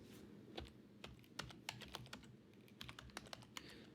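Someone types on a computer keyboard, a run of sharp, irregular key clicks close to the microphone, with short pauses between bursts and a low background hum; nobody speaks.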